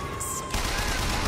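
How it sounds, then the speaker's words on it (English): Rapid machine gun fire in a video game, a dense continuous rattle of shots that swells louder halfway through, close and steady with a voice faintly underneath. "Oh, there's the machine gun."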